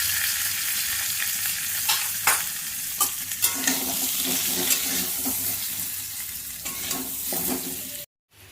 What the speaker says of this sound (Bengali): আলুটা আমার লাল লাল করে ভাজা হয়ে গেছে